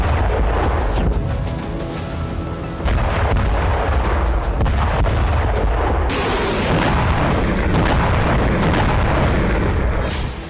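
Drone and missile strikes hitting Russian territory produce a dense, continuous barrage of heavy booms and blasts, one after another with loud low rumbling and crackling bursts, sustained without pause.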